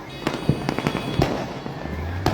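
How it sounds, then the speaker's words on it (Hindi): Fireworks bursting at a morning Chhath Puja celebration in Nalasopara, Vasai-Virar, a quick run of sharp cracks and pops, some close and loud, others fainter, with no talking. "उसी के साथ आतिशबाजी, बहुत सुंदर, बहुत रमणीय दिख रहा है यह स्थान।"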